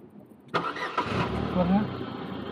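A vehicle engine fitted with a GPS tracker starts after the key is turned, cranking abruptly and catching, then settling into a steady close idle.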